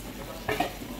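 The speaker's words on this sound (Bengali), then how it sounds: "এখন মাছগুলি আর আলুগুলি দিয়ে দেব" Fish and potatoes dropped into a simmering curry pot give a soft splash, then a steady low sizzle and bubbling with light stirring, all close by.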